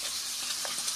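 Fish frying in a pan, a soft continuous hiss and sizzle of hot oil, fairly faint and steady, with no talking.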